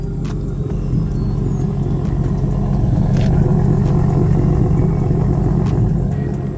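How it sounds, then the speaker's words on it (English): A car engine idles after repair work, a steady low rumble close by that holds an even level with a faint mechanical hum and no revving or speech. "Car's been idling now."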